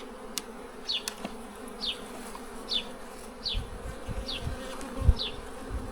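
Honeybees working at an open hive, a steady buzzing drone with individual bees whining past close by in a repeating pattern, alongside light handling knocks and low rumbles.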